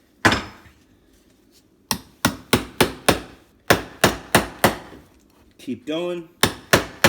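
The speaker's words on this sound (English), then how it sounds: "Work my way down, crack the tile, pull away those pieces with the putty knife." Hammer blows crack a stubborn ceramic tile backsplash off a wall, about a dozen sharp, loud strikes coming in quick bursts with short pauses between them. A short spoken remark comes partway through.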